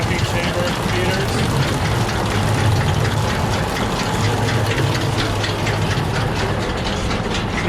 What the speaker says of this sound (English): PTO shaft runs off the tractor that runs the whole machine, the flywheel spinning